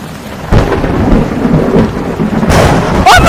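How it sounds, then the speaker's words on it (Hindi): A thunderstorm with thunder and rain: loud, close, continuous rain roar with deep rumbling thunder swelling through it and a sharper crack near the end, no voices. "बाहर मौसम खराब है, बिजली कड़क रही है"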